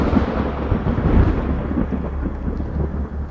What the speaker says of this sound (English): It was lightning, but so close that I literally fell to the ground.